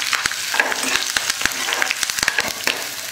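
Onion frying in a pan with curry leaves, a steady loud sizzle with sharp crackles and pops and occasional stirring scrapes throughout, no voices.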